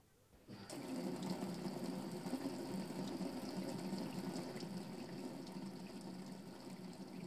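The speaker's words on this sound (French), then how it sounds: "Là, tu ouvres le robinet." A tap turns on and water runs steadily in a strong, hissing stream, close and continuous.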